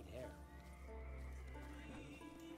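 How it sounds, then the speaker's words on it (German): Wild horses in The Witcher 3 video game neigh and whinny with hooves clip-clopping, fairly quiet over a steady low game hum. "Oh, wilde Pferde."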